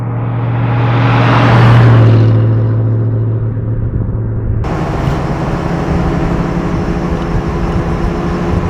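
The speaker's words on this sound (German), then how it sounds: "Also laufen tut er sehr, sehr schön, der Wagen." A 1939 Horch 854 Special Roadster engine running, a loud, close, steady low rumble with a swelling drone early on, then a sudden shift to a broader, harsher roar that continues evenly to the end.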